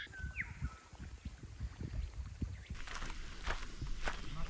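Footsteps scramble over rocks in kayaking shoes on a 600-metre walk from a weir to caves, a steady run of soft, uneven scuffs and thuds close by, with louder crunchy steps in the later part.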